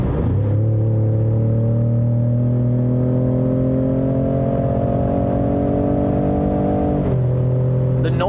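2019 Ford F-150 Raptor pickup in sport mode accelerating hard, a loud, steady engine drone rising smoothly in pitch for about seven seconds before a gear shift drops it briefly, heard from inside the cab.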